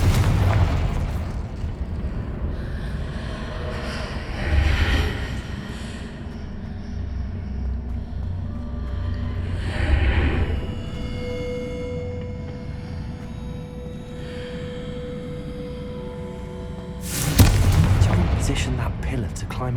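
Incendiary fire spell blasts in the video game Hogwarts Legacy, booming explosive bursts around 5, 10 and 17 seconds over a steady rumbling game soundscape with music-like tones.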